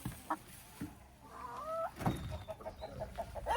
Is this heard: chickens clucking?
yes